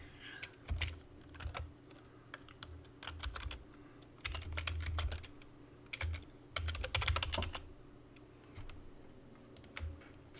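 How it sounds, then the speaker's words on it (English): Typing on a computer keyboard, with irregular bursts of quick key clicks separated by short pauses, close and fairly quiet, with no talking. "I'm typing this right now."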